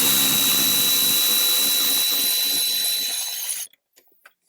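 A loud, continuous power-tool whir with a high whine runs while front seat bolts are removed from a 2018-up Jeep Wrangler JL, then cuts off abruptly, leaving a few faint metallic clinks.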